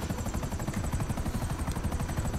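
A helicopter's rotor thumps in a fast, steady rhythm with an engine whine on top, loud and close, with no voices, in the video game GTA Online.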